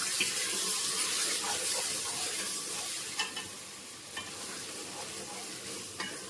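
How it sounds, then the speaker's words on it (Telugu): A spoon stirs turmeric into a sizzling curry mixture, a steady close hiss of frying with a few soft scrapes and taps of stirring toward the end. "ఒక 1/2 స్పూన్ పసుపు, వేసి ఒకసారి కలపాలి బాగా"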